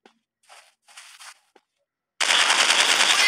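Burst of rapid automatic gunfire from a sniper shooting game set in a dinosaur-hunting zoo, loud and sustained after a few short muffled shots and quiet gaps.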